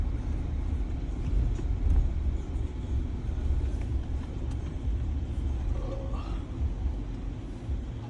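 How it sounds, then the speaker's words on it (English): A Chevrolet Tahoe engine idles with a low steady rumble, running alone without talk. "The Tahoe is running. It is running."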